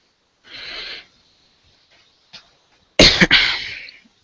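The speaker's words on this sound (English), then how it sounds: "Sorry about the coughing." A person coughs harshly a few times, close to the microphone, with a breathy exhale first and then a sharp, loud burst of coughing.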